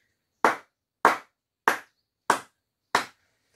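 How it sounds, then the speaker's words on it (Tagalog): Five evenly spaced, sharp claps sound one after another at a steady, unhurried pace, fairly close, each separated by silence, as children applaud themselves in a teaching demonstration. "bigyan natin ng 5 palakpak ang mga sarili natin"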